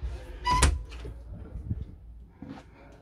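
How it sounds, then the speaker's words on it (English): Campervan door on an X Go X Van 2 98 plus, a sharp clunk near the start followed by softer knocks and rattles, close by with no talk. "and it has this door here"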